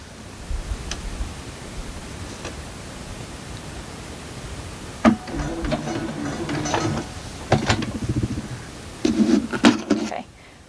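Sewing machine stitching quilt fabric for a pressed flowers quilt block, heard as short bursts of mechanical whirring and clatter, with several brief stitching runs separated by quiet pauses, close up.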